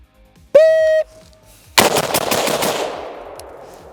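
Rifle shots at an outdoor shooting range: a loud, sharp report with a long rolling echo, preceded by a short electronic beep tone.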